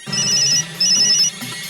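A mobile phone ringtone plays two bright electronic bursts with a short gap between them, loud and close, with no voices over it.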